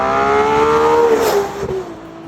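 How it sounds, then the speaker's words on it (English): Ferrari 812 Competizione 6.5-liter naturally aspirated V12 with a Boost Logic custom exhaust, screaming loud as revs climb to a high pitch, then dropping away as it passes and fades. "this is just how much more incredible this car sounds now with this Boost Logic exhaust"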